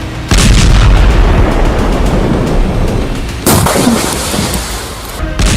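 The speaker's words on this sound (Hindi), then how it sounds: "यहां इजरायल ने जमकर बम बरसाए" Heavy bomb explosions and artillery fire in a Lebanese village during fighting between Israel and Hezbollah, a loud continuous roar of blasts and rumbling booms, with a sharp fresh burst partway through and another near the end.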